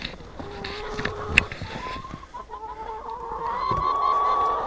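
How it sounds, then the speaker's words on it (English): Several hens cluck and squawk nearby in a steady, uneven stream as they are given food, with one sharp higher cry and rising clucking toward the end. "Well, Sherry got the food to the chickens"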